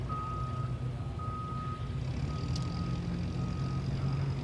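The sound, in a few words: vehicle reversing beeps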